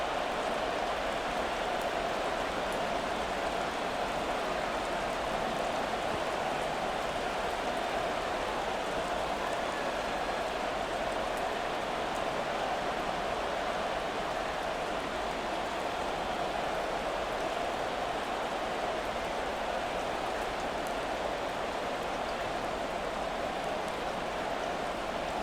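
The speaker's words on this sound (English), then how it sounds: "The rain set to continue as we are underway in the second half." Steady, dense rain hisses without break through a rainy Madden 24 football game between the 49ers and Bears, a broad even wash with a faint commentary voice low underneath.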